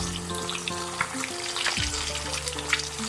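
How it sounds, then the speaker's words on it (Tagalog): An egg frying in a pan, a continuous close crackling sizzle with a few louder pops, while a faint tonal hum runs underneath. "Pagod na ang white pero ang yellow wala pa naluto."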